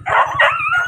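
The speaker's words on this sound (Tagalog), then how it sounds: "Nakakita siya ng aso." A dog barks and howls close by at a church in Culubcub, Silang, Cavite, in a loud, brief, drawn-out call over a steady low rhythmic pulsing.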